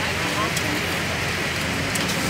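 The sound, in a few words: rain falling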